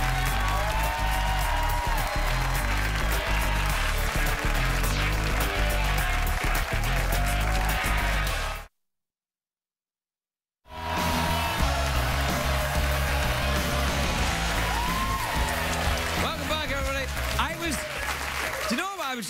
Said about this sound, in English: I was trying to hear myself think over the phony applause